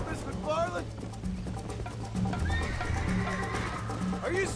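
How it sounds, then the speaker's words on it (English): A horse whinnies a few times over game music and hoofbeats in Red Dead Redemption, with a rising neigh at the end. "I think you chose the wrong horse, Miss McFarland."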